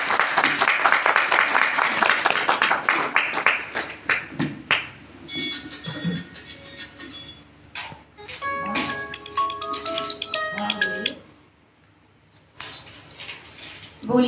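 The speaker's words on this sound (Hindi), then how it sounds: "जोरदार तालियों से स्वागत अभिनंदन करें" Applause from a gathered crowd at a Gayatri Pariwar lamp fire ritual in a village settlement, loud and sustained at first, then fading into scattered clinks and taps, with a brief swell of clapping at the very end.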